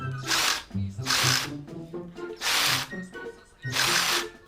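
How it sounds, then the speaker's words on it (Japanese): A power drill whirs in four short, loud bursts with brief pauses between them, close by, boring out the head of a socket bolt on a Honda NSR250R MC21 motorcycle front fork. "残された道は遠回りしているボルトの頭をドリルで飛ばすしかない"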